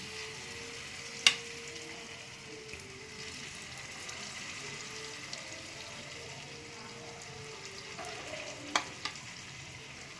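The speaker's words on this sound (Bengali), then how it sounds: "এই যে মিনি ছোটো প্যানটা বসিয়ে দিয়েছি তেল দিয়ে দিয়েছি এবারে আমি একটু ব্যাটার এর মধ্যে দিয়ে দিচ্ছি" Semolina batter sizzles softly in an oiled mini pan over a low gas flame, a steady faint hiss with a couple of sharp clicks of utensils against the pan.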